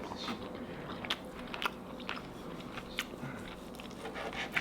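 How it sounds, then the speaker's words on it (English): Someone chews freshly cooked pork tenderloin close up, with quiet, soft crunching bites at a steady, irregular pace and a low background hum, without talking. "I'm gonna have to cut some of that chewing out."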